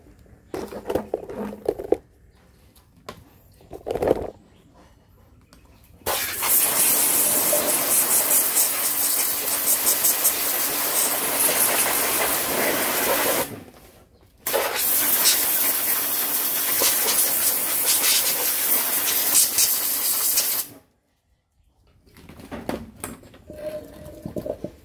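High-pressure water sprays loudly in two long hissing bursts against an old Robin two-stroke engine as it gets washed, with short quiet gaps and clattering handling sounds between them.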